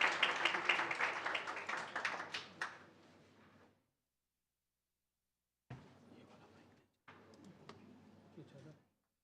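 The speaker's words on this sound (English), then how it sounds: "A big round of applause for them all." Audience applause at an international conference on sustainable development goals after architects are introduced as presenters, a dense round of clapping for about three seconds that fades out, followed by quieter bursts of shuffling and low room noise.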